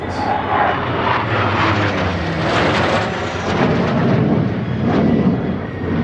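Vintage military aircraft, including a Hawker Sea Fury and a Hawker Hunter, fly over the La Ferté-Alais airshow, giving a loud, continuous broad engine roar that swells and fades slightly with no break throughout.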